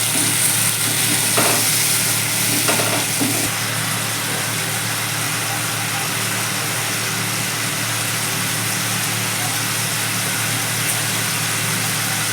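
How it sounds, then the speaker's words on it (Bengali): Ginger paste and turmeric spice mix sauté in a pan with a loud, continuous sizzling hiss and a low steady hum underneath. A few faint stirring scrapes come early on, and no one speaks. "এবার মশলাটাকে একটু ভালো করে কষে নিয়েছি"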